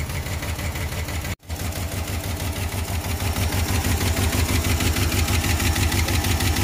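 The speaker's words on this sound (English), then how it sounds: "So I moved it a little bit and it fired right up." A 1974 Ford F250 High Boy 4x4 truck engine, started after sitting for years, running steadily with a rapid rhythmic chugging pulse and loud, close exhaust, interrupted by one brief dropout before settling into a steady run.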